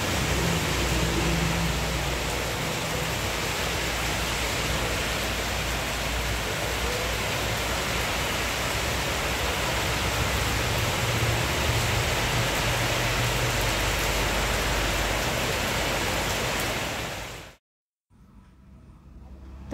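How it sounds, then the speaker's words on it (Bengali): Heavy rain from a morning storm pours steadily as a dense, unbroken hiss for about seventeen seconds, then cuts off abruptly into near silence. "তো প্রচুর পরিমাণে ঝড় বৃষ্টি বসে বসে দেখছিলাম।"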